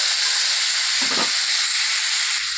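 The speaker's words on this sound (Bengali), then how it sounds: "এখন আমি টমেটো বাটা দিয়ে দিচ্ছি।" Tomato paste meets hot oil in a pan with a loud, dense sizzling hiss, a short stirring swell near the middle, and no voices.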